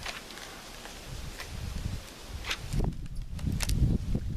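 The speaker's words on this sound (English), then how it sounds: "it's getting more windy out here" Outdoors in a farming area, wind gusts and buffets the microphone with low rumbling that grows stronger, along with rustling and a few scuffing sounds close by, and no one speaking.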